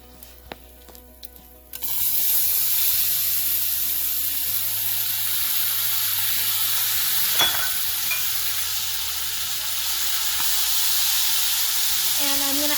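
Fresh cranberries hit a hot pan of oil with asafoetida and erupt into loud, steady sizzling and frying that continues throughout, with a brief stirring scrape midway.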